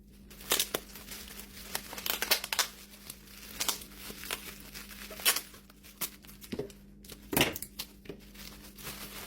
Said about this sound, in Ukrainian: Замотую скотчем.